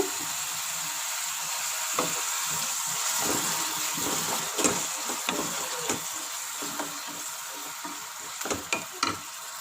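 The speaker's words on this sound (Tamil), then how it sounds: "அதனால் லைட்டாக வதங்கட்டும். வதங்கிடுச்சு. தக்காளி கொட்டிக்கோங்க." Masala sautéing for fish cutlets, a steady close sizzle and hiss in a pan with repeated scraping stir strokes of a spoon, no talking.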